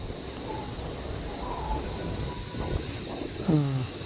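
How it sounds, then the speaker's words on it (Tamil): At the Murukandi railway crossing a train approaches with a low rumble under constant background noise, a faint horn-like tone, then a short squeal of falling pitch near the end. "இங்கே பாருங்கள் ட்ரெயின் அங்கே வருது"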